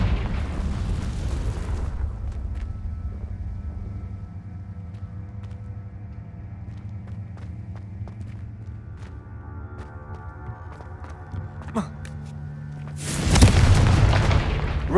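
A video game Confringo explosion spell bursts with a loud booming blast and lingering rumble, then a second heavy explosion hits near the end.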